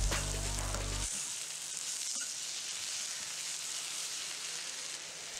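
Radish and tomato sizzle in a pan for chutney; after a brief low thump at the start, a soft, steady frying hiss carries on alone.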